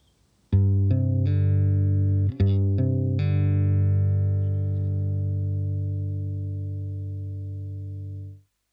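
A clean electric guitar tone runs through an Empress ZOIA pedal: a few quick picked notes, then a chord that rings out loud and sustained and slowly decays over several seconds, with no voices.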